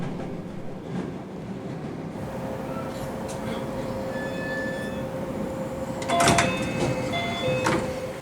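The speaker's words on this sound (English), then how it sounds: "The train comes to a stop at Takao Sanguchi Station." Rumbling train slowing to a halt at Takao Sanguchi Station in Tokyo, with squealing brake tones and clanks near the end as it stops.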